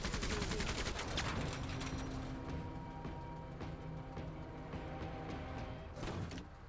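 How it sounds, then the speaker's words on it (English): Rapid machine gun fire in the video game Menace, a dense burst of gunfire at the start that trails off into a steady, quieter rattle of shots with a final sharp volley near the end. "let's use the machine gun down here"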